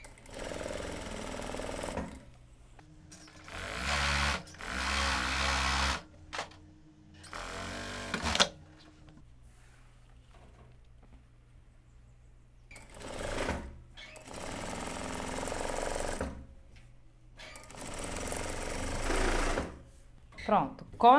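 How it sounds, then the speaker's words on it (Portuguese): Sewing machine topstitching on the wrong side of a made-to-measure shirt, running in several separate bursts of steady, loud mechanical whirring with quiet pauses between. "aqui pelo avesso, eu vou fazer esse pesponto."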